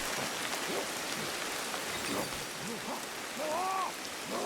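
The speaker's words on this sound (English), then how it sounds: "it's starting to rain" Steady rain falls in the survival game Ancestors: The Humankind Odyssey, a dense even hiss with faint animal calls in the background.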